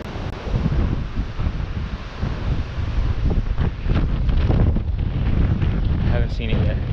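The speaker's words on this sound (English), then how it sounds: "God, this wind is fucking brutal." Strong wind buffets the microphone in a steady, loud roar while steelhead trout are being fished, with water and surf sounds and a voice speaking over the gusts.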